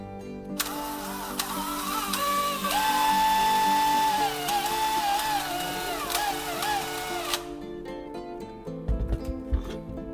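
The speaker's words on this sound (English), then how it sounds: "And sharpen one end of the carbon core." One end of a carbon core being sharpened with a small power tool, its high whine rising and shifting pitch as it bites for about seven seconds, then stopping, followed by light handling clatter.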